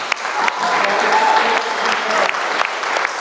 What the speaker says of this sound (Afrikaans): En gee hulle hande klap.